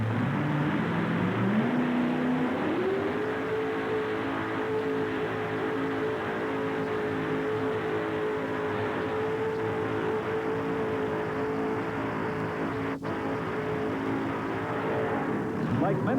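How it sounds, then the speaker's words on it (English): A homemade pulling tractor powered by a 572 cubic inch Chevrolet engine drones loudly at a tractor pull, its pitch climbing early and then holding a sustained roar while an announcer talks over it. "Bud Digger 2, homemade tractor, 572 cubic inch Chevrolet motor on board as he gets ready to come on down right here."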